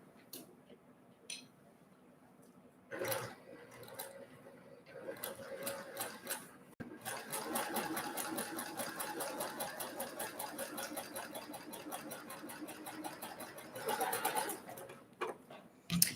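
A sewing machine stitching a quilt block seam, a fast, steady run of rapid mechanical ticks after a few short bursts and taps, with some talking in the early part.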